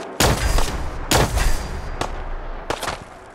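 Gunfire in Fallout 4 combat at Corvega, heard as three or four loud, sharp shots spaced about a second apart, each trailing into a short echo, with no talk over them.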